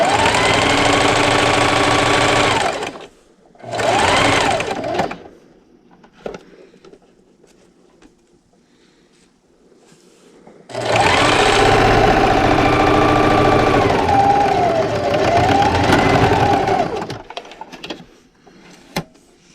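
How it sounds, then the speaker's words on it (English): A sewing machine backstitches and then runs a long straight seam along the bottom of a fabric book or tablet sleeve, with two short bursts near the start followed by a steady, close, continuous whir after a pause. "I'm going to backstitch and then just sew all the way along the bottom"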